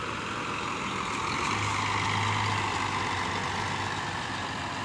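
A Scania K410 bus with a Laksana SR2 body runs its engine in a steady, low, continuous rumble close by, with no talk.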